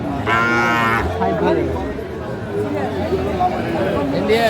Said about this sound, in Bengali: শাহিওয়ালের ষাঁড় বাচ্চা আমরা দেখছিলাম